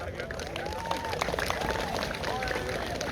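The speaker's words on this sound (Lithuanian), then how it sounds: "Pasitinkame plojimais." A school assembly crowd at Simonas Daukantas engineering gymnasium applauds to welcome the director, with steady clapping and some cheering under a murmur of voices.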